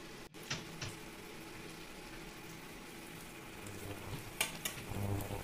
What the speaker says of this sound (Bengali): তবে পেঁয়াজটাকে প্রথমে খুব ভালো করে ভেজে নিতে হবে।